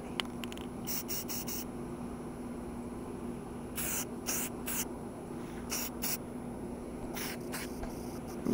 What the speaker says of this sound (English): we're going to be using this here paint from Walmart to spray this